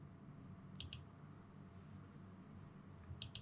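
Computer mouse clicks while editing translated subtitles in software: two quick double clicks near the start and another pair near the end, crisp and close over a quiet room hum, with no talking.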